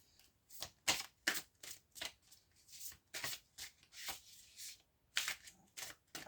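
Tarot cards cut and shuffled in a series of crisp, papery riffles and slaps, close and fairly quiet, with short pauses between bursts and no talking.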